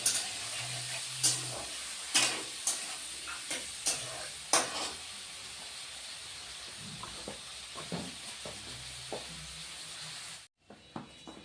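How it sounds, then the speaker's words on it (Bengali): Potato and eggplant pieces frying in a pan give a continuous hissing sizzle, punctuated by repeated sharp stirring scrapes, then cut off abruptly near the end. "আমি এখন আলু বেগুনগুলি ভেজে নিব"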